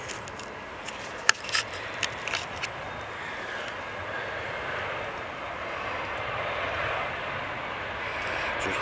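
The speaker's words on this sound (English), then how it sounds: "Coming in to land there, guys, is Lufthansa's A321 from" A Lufthansa Airbus A321 arriving from Frankfurt and landing at Manchester Airport, heard as a distant, steady broadband roar that swells gently, with a few sharp clicks near the start.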